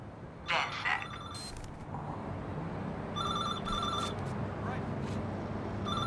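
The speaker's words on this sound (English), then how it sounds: "I found a payphone with some hardware attached to it. It just started ringing." A payphone rings in the Watch Dogs 2 video game, sounding as a couple of short electronic trilling bursts at moderate volume over steady city background noise.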